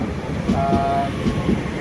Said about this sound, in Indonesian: ini saya udah di train station menunggu